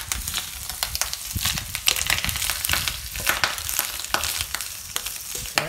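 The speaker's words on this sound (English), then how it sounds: "So the bacon is now fried and we will mix it with onion" Fried bacon and onion crackling and sizzling in a hot pan, a dense close sizzle with frequent sharp pops and stirring scrapes throughout.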